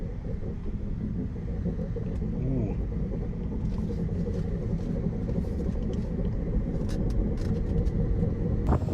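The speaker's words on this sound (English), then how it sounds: "So let's go for a drive and see how bad this thing is." A junkyard BMW on a test drive, its engine and road rumble droning steadily and close throughout, with faint rattles and a few clicks from the cabin and talk in places.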